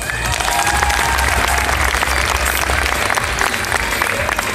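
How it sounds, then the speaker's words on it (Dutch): A large audience at a beauty pageant gives loud, dense applause for a prize presenter, a sustained roar of clapping with some crowd noise, close and continuous throughout. "dus graag een gigantisch groot applaus voor de heer Bart van Halle"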